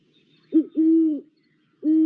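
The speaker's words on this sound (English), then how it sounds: "the answer is a great horned owl" A great horned owl gives deep, resonant hoots: a short first note followed by a longer sustained one, then another after a pause, loud and close against silence.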